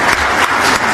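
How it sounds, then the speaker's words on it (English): An audience applauding at the close of a long panel on peering, a brief burst of loud, close clapping from many hands. "give a round of applause to all of you for sitting through this long panel"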